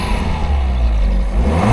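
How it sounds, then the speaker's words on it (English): An Abarth 595 engine revs hard as the gas pedal is pressed, a loud, steady low growl that swells toward the end, heard close with no talk. "whenever we hit the or press the gas pedal, that sound it makes,"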